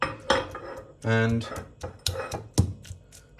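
Chilies and garlic cloves drop into a pestle and mortar, giving a few knocks and clatters of ingredients landing in the bowl, mixed in with a person talking throughout.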